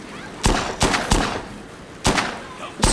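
Gunfire from a gun in the video game Dead Rising 2: five sharp, loud shots spaced unevenly across a few seconds, each a crisp crack standing alone over a quiet, low background.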